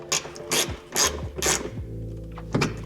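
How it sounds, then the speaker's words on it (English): A ratchet wrench clicks in short repeated bursts as a ground wire's bolt is threaded back in on a Honda Acty, loud and close, with a metallic rattle at the end. "Now I'm gonna put this connection right on top of that bolt and just thread it back in"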